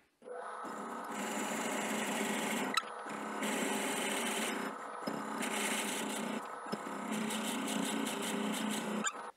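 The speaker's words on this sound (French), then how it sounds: "je vais utiliser une mèche Forstner 25 mm de large et on va creuser un trou à peu près" A 25 mm Forstner bit bores into wood on a woodturning lathe, giving a rasping, whirring grind in several bursts separated by brief pauses and clicks, close and moderately loud.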